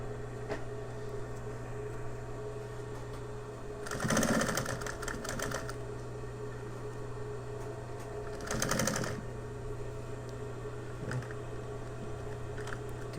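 A sewing machine stitching a fabric panel for a load-carrying system, two short bursts of fast mechanical stitching over a steady hum, close and clear, with pauses between.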